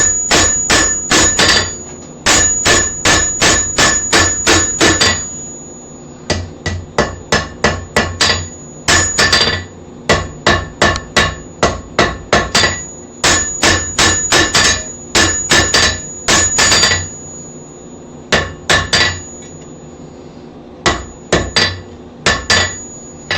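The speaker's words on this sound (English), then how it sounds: "I shouldn't even be calling my hammer air hammer" An air hammer pounds hot metal being forged into a wreath hanger, striking in rapid loud bursts of sharp, ringing blows with brief pauses between runs.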